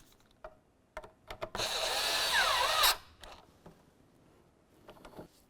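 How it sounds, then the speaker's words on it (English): A power drill or driver runs in one steady burst of about a second and a half while tightening the tailgate handle screw on a 2004-2015 Nissan Titan, with faint clicks and handling noises before and after. "you can pull on your handle and tighten that screw"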